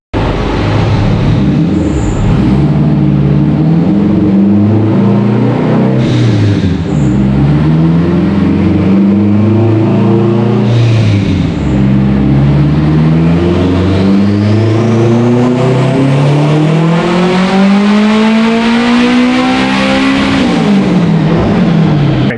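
An all-wheel-drive Honda Civic on a dynamometer at full throttle, the engine note climbing steadily through the gears in one long, loud, close pull with brief dips at each shift, and no voices over it.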